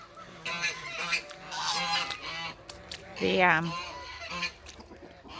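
Geese at a farm pond that has refilled after days of heavy rain honk in short bursts, with a loud cluster of nasal honks midway and quieter calls around it, close by.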